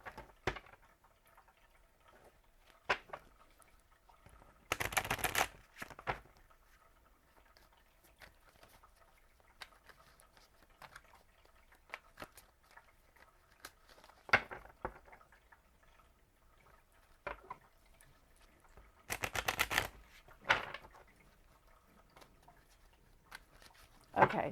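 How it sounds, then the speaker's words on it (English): Several short bursts of crystal reading cards being shuffled, crisp riffling flurries separated by quiet stretches with faint handling clicks and taps in between. "Okay, sorry. I'll stop shuffling, I promise."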